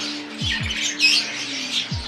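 Lutino opaline pet birds squawk in a breeding cage, giving a quick series of harsh, nasal calls at close range, a few in a row with short gaps.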